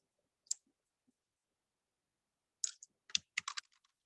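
Typing on a computer keyboard: a lone early keystroke, then a quick cluster of clicking keys, close and quiet against near silence.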